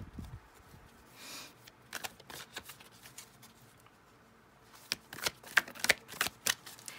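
Tarot cards being shuffled, with soft riffling at first and a quicker burst of crisp card snaps near the end, close and fairly quiet with no talking.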